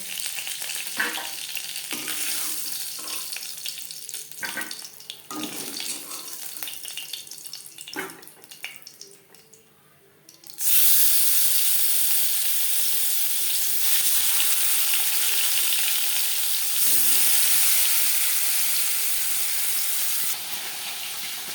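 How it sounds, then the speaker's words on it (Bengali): Bhola sea fish is fried hard in oil. Quieter clinks and light kitchen handling come first, then a loud, continuous sizzle bursts in about halfway and carries on close and unbroken to the end. "আমি একটু কড়া করেই ভাজলাম সামুদ্রিক মাছ"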